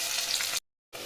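Whole cumin, two dried chillies and chopped onion frying in hot mustard oil in a kadai, a loud steady sizzle that cuts out abruptly for a moment, then resumes.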